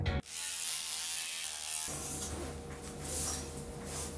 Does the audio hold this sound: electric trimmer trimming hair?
yes